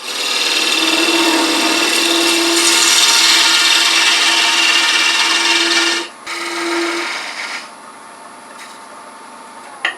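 A parting tool cuts into spinning wood on a lathe while turning a Roman-style flask, giving a loud, continuous scraping whir over the motor's hum that drops off abruptly and then fades to a quieter spin.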